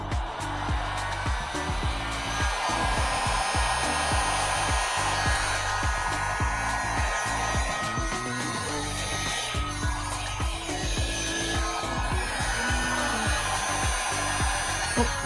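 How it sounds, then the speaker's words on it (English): Heat gun blowing hot air onto an ebonized ash wood piece, a continuous loud roaring blast with rhythmic fluttering pulses from handling or the air stream catching the wood, steady throughout and close to the listener. "Hit a little bit of heat gun action."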